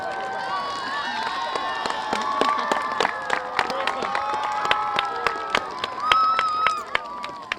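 An audience at an outdoor garden opening claps for the children who built the gate. Sharp hand claps ring out through excited, high-pitched children's shouts and cheers, with a final burst of noise near the end.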